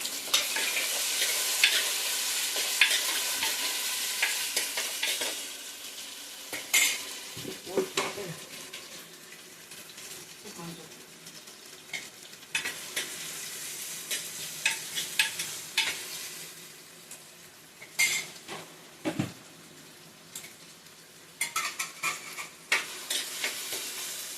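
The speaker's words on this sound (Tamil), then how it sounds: "வெங்காயம் வணங்கிடுச்சு இப்போ தக்காளி கொடுத்துருக்கோம் மூணு தக்காளி" Onions and three tomatoes frying in a pan for a home-cooked fish curry give off a steady sizzle, broken by repeated scraping stirs and some splashing kitchen water.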